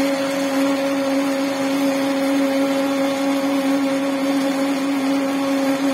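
A lathe turns metal at 345 RPM with a 10 mm per minute feed and 0.1 mm depth of cut while a tool dynamometer reads cutting forces. It gives a steady, unbroken mechanical whine with a constant hum, loud and even, with no talking.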